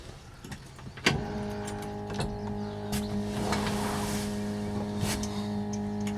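A 1955 Chevrolet 210 with a 427 V8 turns over and catches, settling into a rough, lumpy idle with occasional revs and clicks, fairly close.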